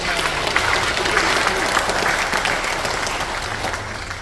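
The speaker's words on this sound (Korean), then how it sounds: "이런 점에서 노력하신 분들에 대해서 큰 박수 한번 해주시기 바랍니다." A large congregation at a memorial service claps steadily, a broad even wash of applause that holds for several seconds and slowly eases off.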